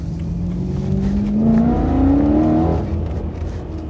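A BMW E92 M3 engine revs up and holds its pitch, rising in steps to a loud peak around two seconds before easing off, close and clear with no talk.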